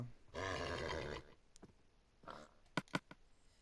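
A horse in a survival video game lets out one loud, drawn-out whinny, then a quieter snort, followed by a few sharp clicks.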